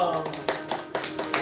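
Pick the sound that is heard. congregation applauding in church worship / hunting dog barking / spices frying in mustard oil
congregation applauding in church worship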